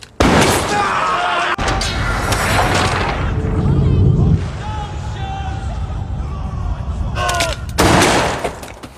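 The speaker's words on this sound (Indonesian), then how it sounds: "Kimber menembak Tommy 2 kali, namun salah satu mengenai Daniel sehingga ia tewas di tempat" Gunshots ring out in a gangster showdown from a Peaky Blinders scene. Several loud, booming blasts come in heavy bursts, mixed with a crowded rumble of noise and voices.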